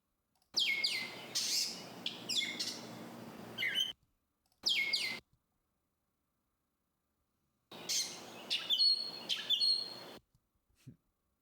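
Northern mockingbird song samples, bursts of bright, rapid chirps and whistled phrases in three separate stretches split by silent gaps, with a faint low knock near the end.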